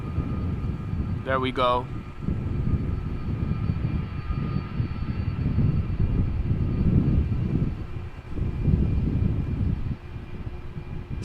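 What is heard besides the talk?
large airliner taking off at Amsterdam Schiphol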